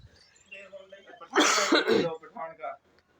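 A burst of harsh, hacking coughs breaks out in the middle, loud and close, with a few quieter throat sounds before and after.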